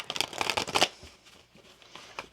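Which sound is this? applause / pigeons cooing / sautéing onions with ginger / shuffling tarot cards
shuffling tarot cards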